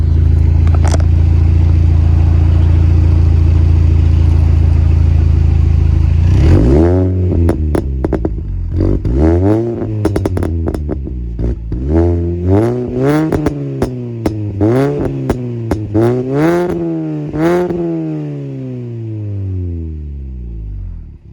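A Mini Cooper R53 sits parked and idles steadily near the exhaust, then revs repeatedly in short, sharp bursts that rise and fall quickly, loud and close, with crackles between the blips.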